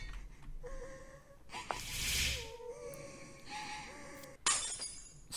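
Glass shatters in the horror video game Mad Father: a sharp, crunching break with a brief scatter of debris, then a second short crash, set over a faint eerie tonal soundtrack with no speech.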